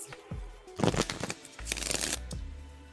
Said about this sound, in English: Shuffling for you now, Alex.